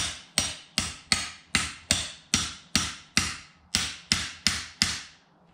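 Twelve sharp, evenly spaced hammer blows drive a part down into its socket with an install tool, each strike crisp and close with a brief ringing decay, no voices.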